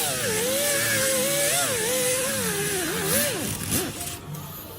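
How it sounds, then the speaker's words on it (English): A power sander working glue off a fiberglass car door panel, a loud continuous whine that wavers in pitch as pressure changes, then becomes unsteady and trails off near the end. "I'm going to try just a little slight sanding, which works really well and just takes it off"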